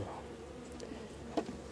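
Honeybees buzzing around a hive with few bees present, a soft, steady low hum close by with a brief louder knock or tap near the end and no talking.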